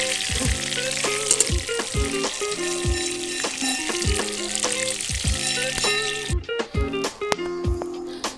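Nigella seeds hit leftover hot oil in a pan after tiger prawns were fried, giving a loud, continuous sizzle with rhythmic scraping and stirring clatter near the mic; the sizzle drops suddenly near the end.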